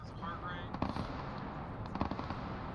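Artillery fire in the Arma 3 WWII game near Houesville, heard as sharp distant blasts around one and two seconds in, set against steady background noise while men call out fire commands.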